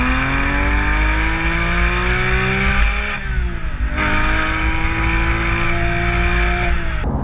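A Porsche 911 GT3 Touring's naturally aspirated 4-litre flat-six revs hard and rises in pitch, drops briefly on a gear change, then climbs again with a loud, close, howling engine note throughout.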